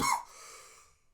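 A single short, close cough from one person, followed by a faint trailing breath as the sound fades out.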